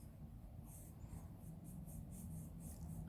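A pencil sketches a ring design by hand on paper in quiet, rhythmic scratchy strokes, a series of short repeated marks that are faint and close over a low background hum.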